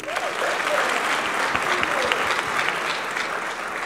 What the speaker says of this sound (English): I'm gonna clap for her.